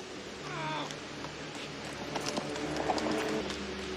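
Hooves clip-clop at a walking pace, a few distinct steps standing out over low background noise.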